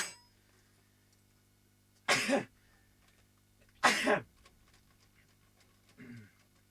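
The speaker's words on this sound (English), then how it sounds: "Excuse me, I need to sneeze." Two sharp, breathy bursts about two seconds apart, like stifled sneezes, then a softer short exhale, in an otherwise quiet room.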